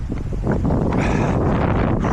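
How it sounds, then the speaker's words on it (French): Steady, loud wind buffeting the microphone during a road run, a continuous low rumble with gusty swells and no voices. "C'est du vent."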